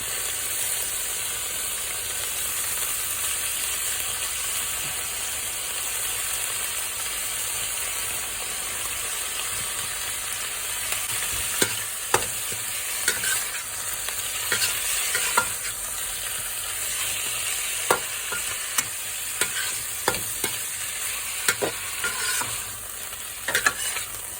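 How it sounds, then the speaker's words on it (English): Ground meat fries in a pan for a Peruvian yacon stir fry, giving a constant sizzle that is joined in the later part by clicking, scraping stirs of a utensil against the pan. "Next we're going to go in with our meat. Just sprinkle it in so it separates a bit."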